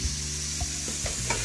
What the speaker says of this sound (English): So my water is boiling.